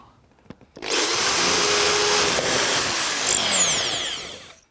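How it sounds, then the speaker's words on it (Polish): Power drill boring into a wooden board, a loud sustained whine starting after a couple of soft knocks and running steadily for about four seconds before winding down. "Borer, bor maszyna. No i teraz będziemy borować. Biera deska i boruja."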